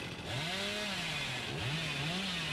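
Billy's chainsaw in the video game Dead by Daylight revving and sawing, a loud buzzing engine whose pitch swoops up and down in two rising surges, close and continuous.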